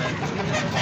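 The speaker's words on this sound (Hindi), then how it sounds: "ये बेहतरीन किस्म का मुर्गा" Aseel rooster at a bustling rooster market in Rawalpindi, clucking continuously and close by against a dense background of other birds.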